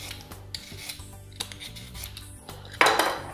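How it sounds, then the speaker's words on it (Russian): A vegetable peeler shaves a cucumber into thin strips in a kitchen, giving soft rasping scrapes at an uneven rhythm with light clinks, ending in a louder scrape. "при помощи овощечистки хочу нарезать на такие тоненькие пластиночки"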